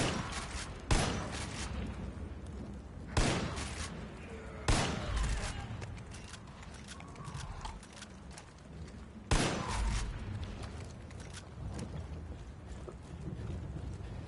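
Shotgun blasts in Far Cry 5, four sharp booming shots spaced a few seconds apart over a steady noisy game background, no talk.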